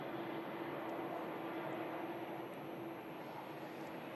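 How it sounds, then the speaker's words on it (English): A TUI Dreamliner airliner taxiing out at Manchester Airport, heard as a steady, broadband jet-engine roar that holds at an even level, with a faint hum running through it and no one talking. "TUI Dreamliner to Cancun on a taxi out."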